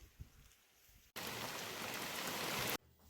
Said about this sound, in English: Here is a quick last shot of the last 20 millimeters of rain living in the swamps